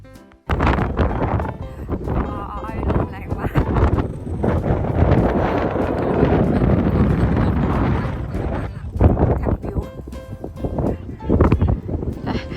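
Strong outdoor wind near Brussels Airport in Belgium buffets the microphone in loud, rumbling gusts that rise and fall throughout.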